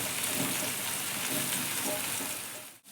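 Potatoes fry in hot oil as ridge gourd is added, a loud, dense crackling sizzle that holds steady for most of the moment, then drops suddenly near the end.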